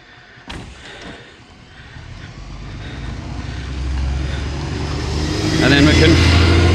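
A bus engine runs at a stop with a low, heavy rumble that swells steadily louder, starting with a sharp clunk near the beginning. Indistinct voices sit faintly under the engine noise.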